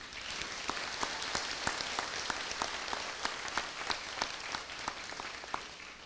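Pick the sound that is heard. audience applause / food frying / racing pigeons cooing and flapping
audience applause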